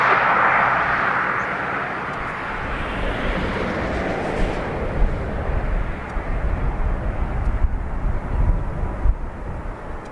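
An Icelandair airliner at Dublin Airport gives off a loud, steady roar of jet engine noise, broad and rumbling, with a higher whine early on that fades as the aircraft moves away. It carries on continuously for about ten seconds.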